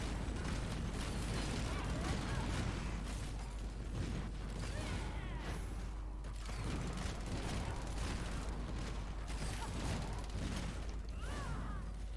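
Rapid turret skill fire in Warhammer: Chaosbane, a dense, continuous barrage of pops and bursts layered over busy combat noise and game music, steady and loud throughout.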